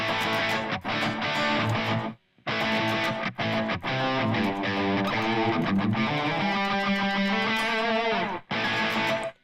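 Clean electric guitar played through a TONEX pedal with reverb switched off, loud chords and picked notes ringing in phrases separated by short, abrupt pauses.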